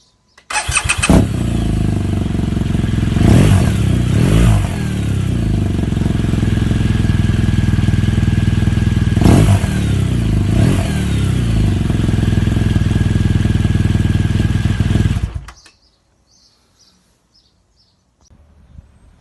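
A BMW R1200GS Rallye motorcycle fitted with a Remus full exhaust fires up close by, settles into a loud raspy idle with several sharp revs, then cuts off, leaving near silence.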